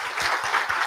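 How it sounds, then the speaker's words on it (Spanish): Audience applause for a doctor after a science, philosophy and theology dialogue, a brief steady patter of many hands clapping at moderate level with no talk over it. "y que le damos un aplauso al doctor."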